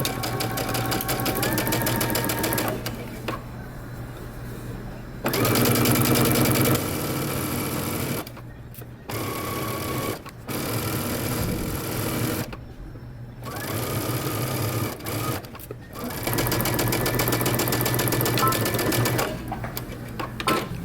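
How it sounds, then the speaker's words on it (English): A sewing machine stitches a bomber jacket pocket, running in bursts of steady rapid stitching with brief stops between runs for back stitching, close and loud with no talk over it. "back stitch, and then sew around your pocket and across the bottom"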